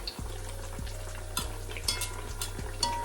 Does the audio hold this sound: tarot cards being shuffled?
no